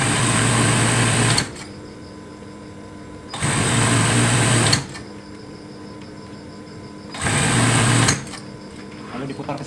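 A sewing machine runs in three bursts of steady, fast whirring while stitching a zigzag seam on a hooded baby blanket, with quieter pauses between runs.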